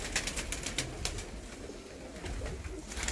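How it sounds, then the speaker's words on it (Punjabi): Chauri Sakhi Sahib breed pigeons coo in a soft, continuous murmur against a rough, noisy background, with no voices. "ਇਹ ਸਾਰੇ ਕਬੂਤਰ ਚੌਰੀ ਸਖੀ ਸਾਹਿਬ ਵਾਲੇ ਆ ਜੀ"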